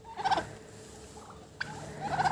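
A young turkey gobbles twice, in two short raspy bursts separated by a quiet gap, fairly close by on a homestead where turkeys are raised and fed corn.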